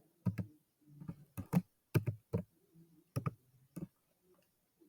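Computer keyboard keys tapped in short bursts of crisp clicks separated by brief pauses, close and clear with no talking.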